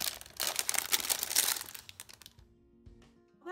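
A paper gift bag being pulled open and torn, with loud close crinkling and ripping for about two seconds before a quiet stretch with a few small rustles.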